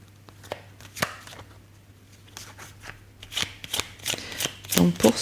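Oracle cards being shuffled by hand, heard as close, crisp riffles and card slaps in irregular bursts that grow busier toward the end, over a faint steady hum.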